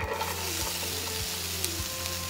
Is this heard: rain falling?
no